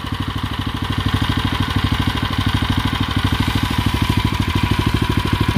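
A Tohatsu 6 hp fire pump engine running steadily, a fast, even, loud putter of a small engine close by, continuous throughout with no talking.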